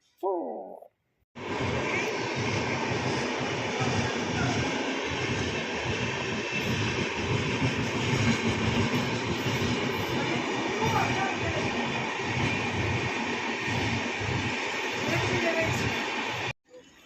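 A train roaring past at close range, a loud steady rumble of wheels and cars that starts abruptly and holds for about fifteen seconds before cutting off, with brief speech just before it.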